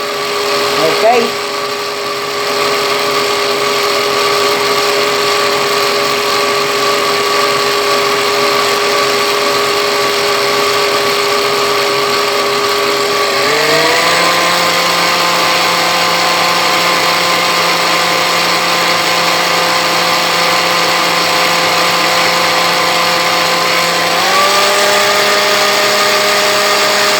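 An electric hand mixer beats sponge cake batter in a home kitchen, a loud continuous motor whine that holds steady and shifts pitch twice as the load changes. A voice speaks briefly near the start.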